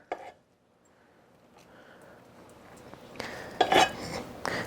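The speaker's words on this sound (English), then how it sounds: "to scoop this mixture in" A protein mixture is scooped into a baking tray with an ice cream scoop. The clip opens with faint, quiet handling, then metal-on-tray clinks and scraping build up louder toward the end.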